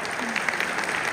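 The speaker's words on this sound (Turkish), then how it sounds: "Arkadaşlarım bir alkışınızı alır mıyım?" A crowd applauds at a Disability Day gathering in Konya, with steady, dense clapping through a brief moment.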